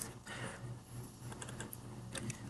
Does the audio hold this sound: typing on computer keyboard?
yes